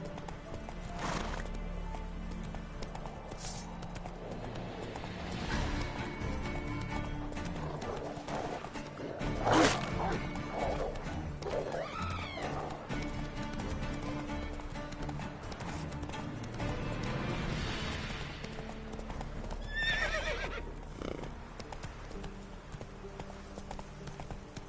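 In The Witcher video game, the horse Roach clip-clops along with steady hoofbeats, snorts and gives several whinnying neighs over a busy ambient background and music, all at a modest level.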